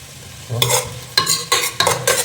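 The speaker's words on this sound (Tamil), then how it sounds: "அவ்வளோதான், வெங்காயம் போட்டாச்சு." Onions sizzle and crackle in hot oil for a mackerel fish curry, with four loud bursts of stirring and spitting over a quiet pan hiss.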